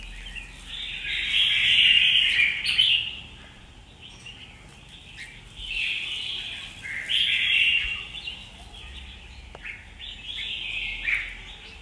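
A caged young red-whiskered bulbul of Kim Boi, Hoa Binh stock sings three bright, close, loud bursts of chirping phrases, separated by short quiet gaps.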